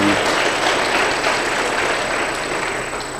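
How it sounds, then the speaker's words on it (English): Audience at a township business workshop applauds steadily, a dense wash of clapping that holds level for a few seconds and then begins to fade, with a thin steady whine audible throughout. "give yourself a round of applause"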